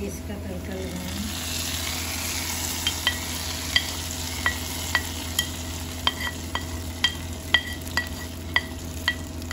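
Spices sizzle steadily in hot oil as a tempering for lentils, with a string of sharp pops and crackles over a constant low hum.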